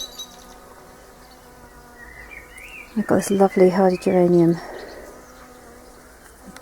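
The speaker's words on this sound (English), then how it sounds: "Bees are going crazy for it." Steady bee buzzing around flowers by a greenhouse on a humid day hums through the clip while a person speaks briefly over it near the middle.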